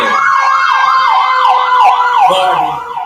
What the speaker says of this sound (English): I know y'all hear the sirens in the background.